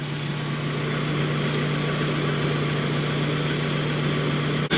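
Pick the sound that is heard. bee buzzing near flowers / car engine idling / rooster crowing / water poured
car engine idling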